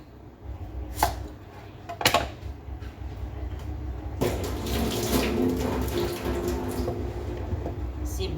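Knife chopping onions on a board for chicken adobo, with a few sharp separate chops followed by busier kitchen clatter and running water, while people talk nearby.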